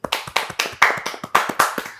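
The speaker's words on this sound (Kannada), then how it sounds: "ವೆರಿ ನೈಸ್, ಚಪ್ಪಾಳೆ" Hands clapping at close range, about nine sharp claps in a steady, slightly quickening rhythm with no talking.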